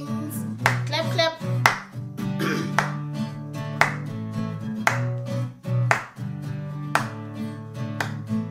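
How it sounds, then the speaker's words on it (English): Sharp hand claps ring out at irregular intervals over a steady musical backing, several claps spread across the stretch. "Clap, clap."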